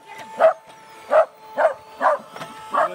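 A dog barks five or six times in short, evenly spaced yaps over a faint steady hum.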